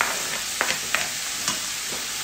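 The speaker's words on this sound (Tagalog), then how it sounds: "Sama ko na rin itong pork. Para mag-brown ng konti." Pork pieces sizzle in a hot pan while browning for binagoongan, with a steady frying hiss and a few clinks and scrapes of stirring up close.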